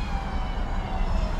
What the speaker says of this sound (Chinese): 我已经听到声音报警的声音了